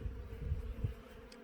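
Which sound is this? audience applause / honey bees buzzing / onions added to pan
honey bees buzzing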